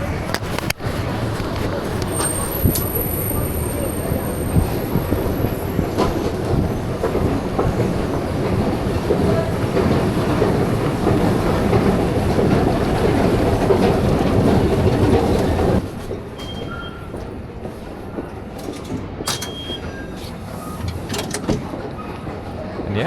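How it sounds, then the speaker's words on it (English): A New York City subway train rumbles and clatters loudly with rhythmic clickety-clack, then drops to a quieter hum as it slows, with a few squeals. "let's head into the subway because it is raining at the moment."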